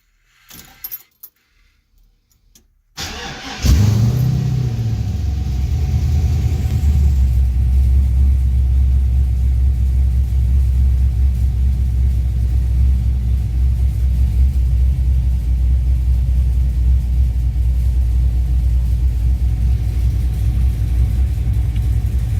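A Datsun 280Z fitted with an LQ4 V8 cranks after a few seconds of quiet handling noises, catches loudly and settles into a steady, deep idle rumble that continues close and unbroken to the end, with no talk.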